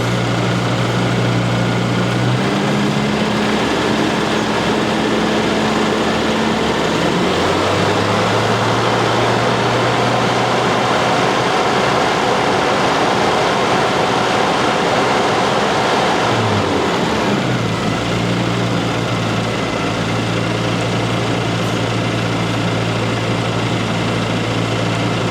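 A cammed car engine running around 800 to 1000 RPM during an ignition timing check, a close, steady low rumble that shifts up and down slightly in speed as the revs change, with no talk.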